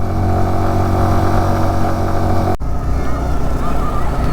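Motorcycles heavily loaded with luggage labour up a snowy mountain road toward Ladakh, their engines droning steadily and loudly throughout with a brief dip partway, close to the listener.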